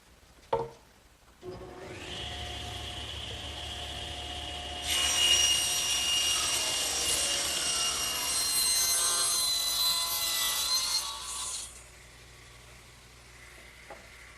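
A wooden strip is sawn to length, a bright, harsh cutting whine that builds after a few thumps and holds steady for several seconds before winding down, loud and close with no talk.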